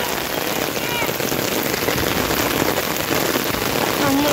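Dense, steady heavy downpour hissing and pattering on surfaces, loud and continuous throughout with no pauses, on an afternoon in Saloá, Pernambuco, Brazil.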